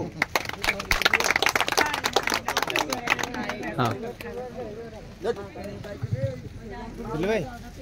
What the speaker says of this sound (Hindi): ताली हो